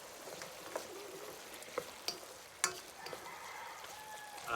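Chicken adobo frying in a pan, with a steady quiet sizzle and a few sharp scrapes and clinks as it is stirred, no one talking.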